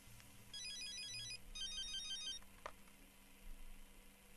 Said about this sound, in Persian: سرکمیسر تلفن شخصی کشته شده زنگ میزنند